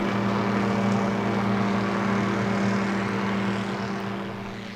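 A slow-flying light aircraft with a 65 horsepower motor drones steadily and loudly overhead, its propeller hum holding a constant pitch before slowly fading near the end.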